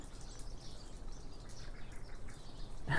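Faint, scattered chirps of birds at a feeder over a steady outdoor background hiss, with a brief sharper sound at the very end.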